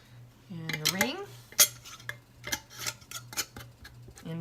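A metal ring screwed down onto a glass canning jar holding pork, ready for pressure canning: a quick run of small metallic clinks and scrapes, close and fairly quiet.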